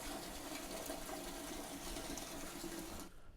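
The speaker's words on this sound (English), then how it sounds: "So I've got my my hose here, and we're just gonna fill it up out of this sink." Steady broadband rush of water pouring from a hose as it fills a large humidifier tank at a sink, loud and continuous for about three seconds before cutting off abruptly.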